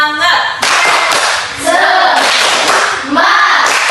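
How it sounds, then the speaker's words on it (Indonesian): A classroom group claps a loud rhythmic 'tepuk semangat' pattern in quick bursts, with chanting voices over the clapping. "mari kita tepuk semangat dulu"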